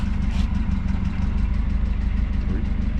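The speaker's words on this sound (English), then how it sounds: "You can hear the car is idling nice and quiet" A DA9 Acura Integra engine idles in a junkyard with a steady, low, even rumble, close by and moderately loud, without revving.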